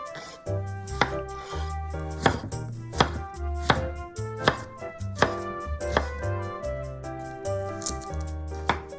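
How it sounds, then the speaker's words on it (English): A knife cuts eggplant into sticks on a cutting board, giving steady, crisp chops at an even pace, close and clear, with no talking. "Cut the eggplant diagonally into 10mm pieces. Cut them into sticks."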